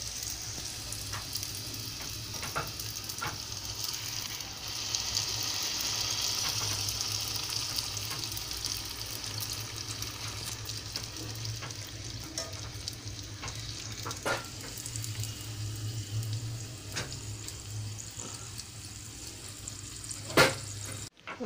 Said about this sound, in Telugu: చూడండి క్యాబేజీ ఫ్రై చేసుకుంటున్నాము